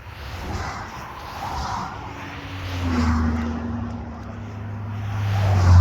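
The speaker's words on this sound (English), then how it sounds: "Couple cars are coming." Cars pass by on a road, low engine hums rising and fading as each vehicle approaches, the last one growing loudest and closest.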